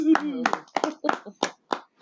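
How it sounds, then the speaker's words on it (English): A small group in a podcast studio gives a handful of sharp, separate hand claps in quick succession, close and fairly quiet, with a brief voice at the start. "So, clap it up for the Balcony Life Podcast."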